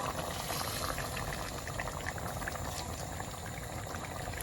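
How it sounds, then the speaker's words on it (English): Blended tomatoes being added to a pot for coconut chicken sauce, a steady close bubbling and sizzling liquid sound that continues evenly throughout. "I'll go ahead and add my blended tomatoes"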